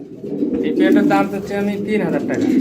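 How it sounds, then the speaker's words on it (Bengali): A breeding pair of helmet pigeons coos at a farm, with throaty, rolling calls rising and falling over a couple of seconds, close and fairly loud, and a voice may mix in. "খুবই চমৎকার হেলমেট কবুতরের জোড়াটা ফুল রানিং বাচ্চা করানো"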